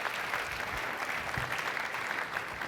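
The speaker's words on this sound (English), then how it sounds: "Let's give them a big round of applause," Audience clapping as guests walk onto a stage at a business discussion event, a steady moderate applause from a crowd heard at some distance, continuing evenly throughout.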